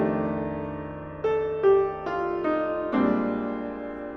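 A saxophone plays a short phrase of sustained notes that step from one chord tone to the next, each change clearly articulated, close and alone.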